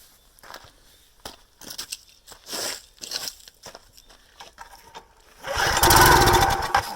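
A wood splitter's gas engine, tried without choke, gets several rough pull-start cranks and rattles, then briefly sputters into a loud, rumbling burst of firing near the end.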